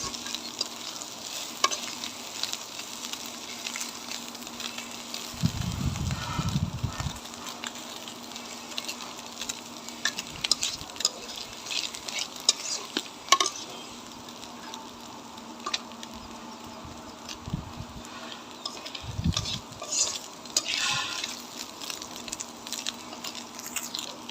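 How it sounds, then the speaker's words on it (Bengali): Chanda fish fries dry in oil with no water and is stirred now and then, making a soft, continuous sizzle broken by occasional scraping stirs over about twenty seconds. "এরকম তেলের উপরে ভাজা ভাজা করতে হবে"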